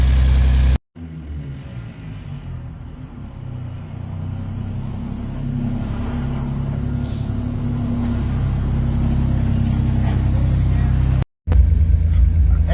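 A vehicle engine that revs freely but loses power in gear gives a continuous low rumbling drone that builds slowly, with brief cutouts near the start and end.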